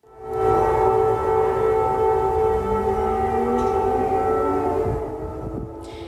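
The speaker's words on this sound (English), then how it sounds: "Air raid sirens have been ringing out in the capital." Air raid sirens wail across Ukraine's capital, a sustained, layered tone that holds steady for several seconds before slowly fading, with no voices.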